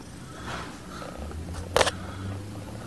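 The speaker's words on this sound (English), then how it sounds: "that completely interrupted your purring" A cat purrs close by in a low, steady rumble that is interrupted by a brief, sharp burst of noise partway through before the soft purring continues.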